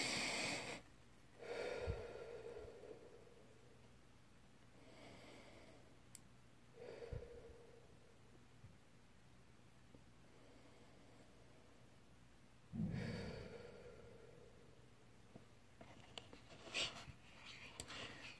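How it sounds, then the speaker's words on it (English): Slow, deep breathing during a guided meditation, several soft, close inhales and exhales spaced seconds apart against a quiet, faintly hissing room. "taking deep breaths in and out"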